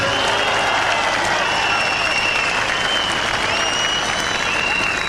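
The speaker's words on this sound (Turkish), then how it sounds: "İstanbul ilçe başkanlarımıza, İstanbul il başkanımız Özgür Çelik'e bir güçlü alkış." A large crowd at a political rally in Çağlayan, Istanbul applauds with a dense, roaring wash of clapping and cheering, loud and sustained throughout, with faint whistles and voices blended into the outdoor crowd noise.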